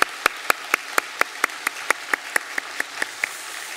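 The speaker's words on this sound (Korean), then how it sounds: "우리 격려의 박수 한번 하겠습니다" Steady, evenly spaced claps ring out in a church congregation during a Sunday worship service, honouring the elder, accompanist and choir. The hand claps are crisp, moderately loud and keep an even rhythm of about four per second, with no voices.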